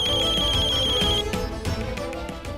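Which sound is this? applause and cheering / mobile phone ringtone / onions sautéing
mobile phone ringtone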